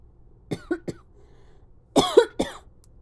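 Close, loud coughing comes in two bursts, a pair of quick coughs followed by a harsher cluster a second later.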